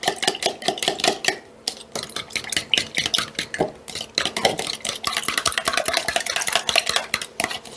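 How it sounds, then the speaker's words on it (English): Egg yolks and milk are whisked briskly in a bowl, giving a fast, continuous clatter of utensil against the bowl, close and loud, with a brief pause early on and no voices. "You just crack the yolks and give it a good mix."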